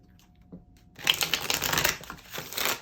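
A deck of Kemetic Tarot cards is shuffled close by after a second of near silence, giving a dense, riffling flutter of card edges that continues in quick bursts to the end.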